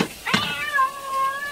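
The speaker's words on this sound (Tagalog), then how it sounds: "Natamaak ti pusa." A cat meows once, a clear drawn-out cry that bends upward and then trails off, close and fairly loud with no talk over it.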